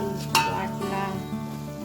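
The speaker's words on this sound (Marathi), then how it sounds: "जिरी मोहरी फोडणी दिली मिरची पावडर लसूण" Tempering of cumin and mustard seeds with chilli powder and garlic in hot oil, a close, moderate sizzle with a sharp utensil clink early on, continuing steadily over a faint background hum.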